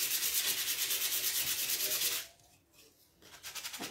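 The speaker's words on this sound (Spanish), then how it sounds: "hay que lijarlo para que se nos quede suave" Painted poplar wood being sanded by hand to a smooth finish: a steady, close scratchy rubbing of short repeated strokes, pausing briefly near the end, then resuming.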